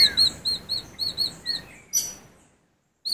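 High, thin Barred Rock chick peeps repeat in quick succession, about eight short calls, then stop; a brief burst of scratchy noise follows before silence.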